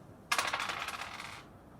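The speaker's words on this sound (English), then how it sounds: "we're both gonna roll the dice at the same time" Dice rolled in a classroom multiplication game: a sudden clatter followed by a rapid run of small rattling bounces on a hard surface, tapering off within about a second, close and alone.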